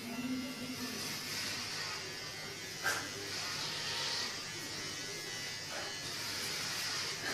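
An electric shaver runs with a steady, fairly quiet buzzing hum that continues throughout, with a couple of brief knocks along the way.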